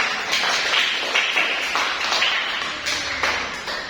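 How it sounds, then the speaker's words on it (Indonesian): Applause from a classroom of students during a micro-teaching lesson, a dense spread of many small hands clapping steadily for about four seconds with slight swells, fairly close. "Beri tepuk tangan dulu kepada saudara."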